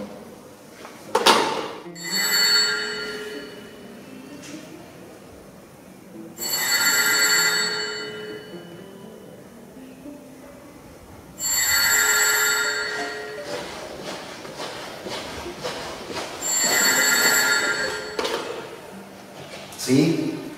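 A telephone bell rings in four long, loud bursts spaced evenly with quiet gaps between, close by, as an expected call comes in.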